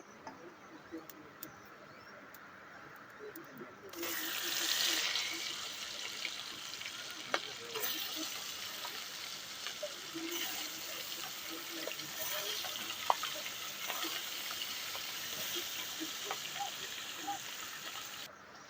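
Mrigal fish hitting hot oil in a wok: quiet at first, then a steady moderate sizzle and hiss that continues to the end, with a faint voice in the background.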